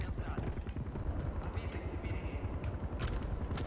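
A helicopter in the video game Far Cry 4 thrums steadily beneath gunfire-like clatter and game noise, a continuous rotor rumble with scattered sharp hits on top.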